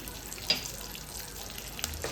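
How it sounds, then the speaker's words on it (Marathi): Cashews and peanuts frying in ghee for upma give a steady, low sizzle with a few small crackles and pops, heard close and alone without talk. "आता आपल्याला हे सर्व दोन ते तीन मिनटं व्यवस्थित तुपामध्ये परतवून घ्यायचं आहे"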